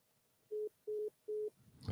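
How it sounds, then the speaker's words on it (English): A telephone line gives three evenly spaced, steady electronic beeps after a call drops, clean and fairly loud over a quiet line, followed by a short rustle of handling noise at the end. "My phone hung up, Bill."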